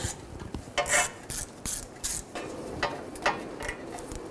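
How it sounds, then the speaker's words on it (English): A 10mm socket ratchet clicks in short bursts while backing out the ABS sensor bolt on a 2003-2008 Honda Pilot, giving several close, sharp pawl rattles separated by brief pauses, alone and fairly quiet. "Using a 10mm socket, remove the bolt out of the ABS sensor."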